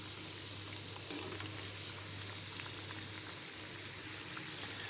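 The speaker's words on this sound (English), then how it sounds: "fried the fries on medium flame for 4 minutes now and now I am stirring them" Fries bubble and sizzle steadily in hot oil over a medium flame while being stirred, a quiet, even frying hiss with faint occasional scrapes.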